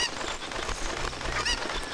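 Cucco chicken from Ocarina of Time squawking while held: harsh, honking, nasal cries repeating quickly in short bursts, loud and close.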